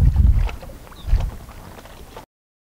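A Honda 9.9 outboard motor on a Sea Eagle inflatable boat, a low rumbling engine drone with pulsing surges and some wind buffeting, close and steady for about two seconds before cutting off.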